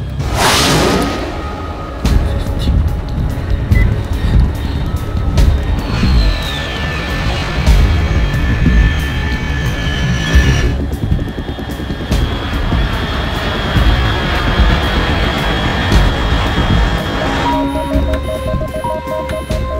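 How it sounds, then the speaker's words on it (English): Aircraft in Metal Gear Solid 3 roaring past overhead: a loud whoosh opens, then a steady, droning engine roar with whining tones carries on for nearly twenty seconds, sliding slightly in pitch as it passes. "Unidentified aircraft detected."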